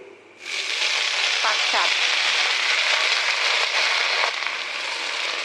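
Chopped garlic, onion and jute greens sizzle in a hot pan, a sudden loud burst of frying that settles into steady crackling hiss with faint stirring scrapes, heard close.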